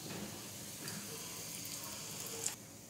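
Bay leaf, crushed small cardamom, a piece of cinnamon and half a spoon of cumin sizzling in hot oil, a steady close hiss and crackle that carries throughout, with no talking.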